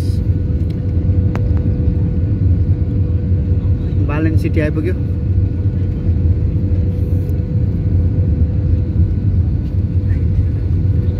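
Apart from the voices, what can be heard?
Nepal Airlines plane landing at Kathmandu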